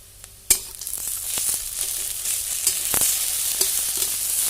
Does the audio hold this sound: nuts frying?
yes